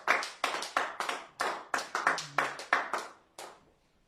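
A church congregation claps in unison to acclaim the word, a run of about a dozen sharp, evenly spaced hand claps in a lively rhythm that thins out and fades at the end.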